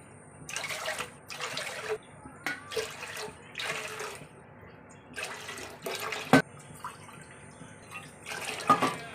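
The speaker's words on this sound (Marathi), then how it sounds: "ह्याच कपाने मी आठ कप पाणी टाकणार आहे" Water is poured from a cup in several short bursts for sago papad, each a splashy rush lasting about a second, with brief pauses and a small clink between them.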